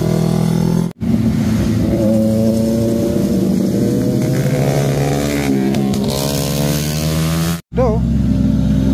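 A sporty motorcycle engine drones loud and close, its pitch climbing and holding through revs, with two brief sharp cutouts along the way.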